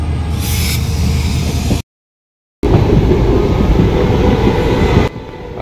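Train running on rail in the early morning between Chaparmukh and Guwahati, heard from on board as a steady, loud broadband rumble with rhythmic low clatter, broken by a brief gap of silence partway through.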